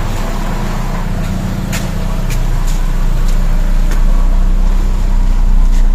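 Toyota Corolla Altis engine idling during an idle RPM adjustment on a cold start, a close, steady low rumble with a rising level midway and a few sharp clicks over the hum.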